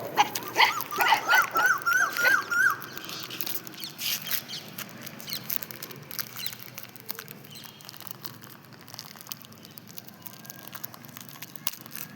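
Puppies yelp and whimper in a quick run of high cries at the start, then fade to quieter whines and shuffling.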